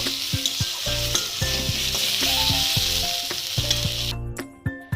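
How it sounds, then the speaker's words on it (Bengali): Snake gourd frying in a pan gives a steady close sizzle, with repeated clinks and scrapes of a utensil stirring against the pan throughout and a few louder knocks near the end. "দেখো, আমার চিচিঙ্গা ভাজাটা হয়ে গেল।"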